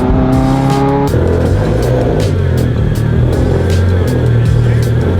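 A Mitsubishi Evo X sits outside warming up, its engine a loud steady low rumble with shifting idle tones, a brief dip in pitch early on, and faint ticking and rattling over the continuous drone.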